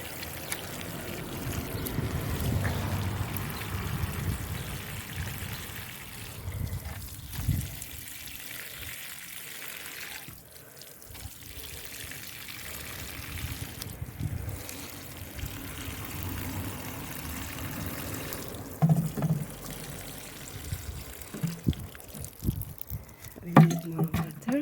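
Water trickles and splashes onto dry vegetable garden soil in an uneven, continuous wash that swells and fades over a long stretch, with a few louder splashes and handling noises.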